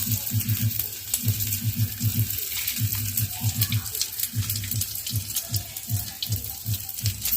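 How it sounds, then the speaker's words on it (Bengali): Whole spices for a Bengali phoron tempering hiss and sizzle steadily in hot oil, with a low rhythmic thumping pulsing underneath throughout. "এবারে দিয়ে দেব ফোড়ন"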